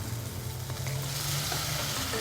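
Cooked drumsticks tumbling into spicy masala sizzling in oil, a steady close fry with brief stirring scrapes over the bubbling.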